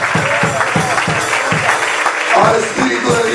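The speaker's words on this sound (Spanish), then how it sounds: "Vamos a darle un fuerte aplauso" Congregation applauding during a Spanish-language church service, a steady mass of clapping with rhythmic, cheering voices mixed in, loud and close throughout.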